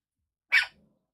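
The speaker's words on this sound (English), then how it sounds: "I'm gonna turn the microphone off while she's barking." A single sharp dog bark, loud and close, cutting through near-silence and trailing off into a faint low rumble.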